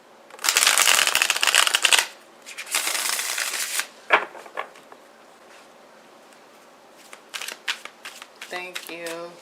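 Tarot cards being shuffled in two loud bursts of riffling, followed by softer card handling and taps, with a brief voice near the end.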